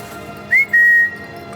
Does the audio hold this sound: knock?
no